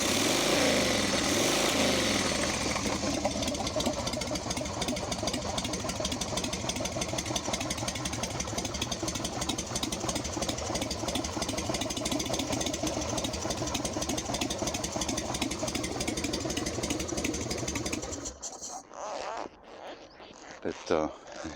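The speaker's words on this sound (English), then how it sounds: "It's nice and mellow until you actually get on it, and then you'll make some noise for sure. You'll sound like a motorcycle." A Harley-Davidson Sportster cafe racer motorcycle idles with a steady, dense, mellow rumble that holds evenly for about eighteen seconds before dropping away to a quieter, uneven tail.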